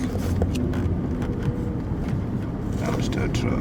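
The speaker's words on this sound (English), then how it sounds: "It's a dumpster truck." Dumpster truck rumbling along a street, a steady low engine drone with wind noise throughout, under people talking.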